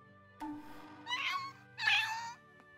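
A cat meows three times up close, in a short call followed by two longer, rising, plaintive meows, against a quiet indoor background with no talking.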